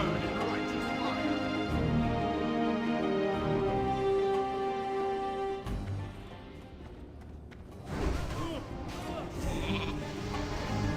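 Bleating sheep in World of Warcraft Classic: a long, tonal bleat carries for several seconds, followed by a jumble of game noise and effects.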